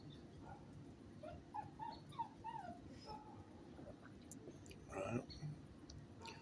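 A small dog on a back porch whimpers in thin, high whines and short yips, faint and intermittent over a low background rumble.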